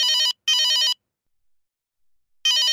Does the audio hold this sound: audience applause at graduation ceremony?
no